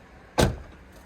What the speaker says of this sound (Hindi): लो जी बोनट साड़ा खुल गया जी